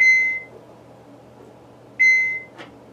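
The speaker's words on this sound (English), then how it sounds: "You will hear an initial beep, and then when you hear a second beep" Two short high electronic beeps from a water ionizer as its filter counter resets, about two seconds apart, with a faint click after the second, in a quiet room.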